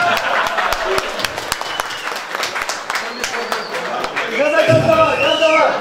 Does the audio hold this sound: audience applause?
yes